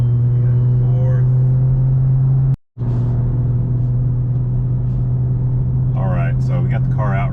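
A car engine on a test drive holds a loud, steady drone as it pulls through the gears, with a brief cut partway through and someone talking over it.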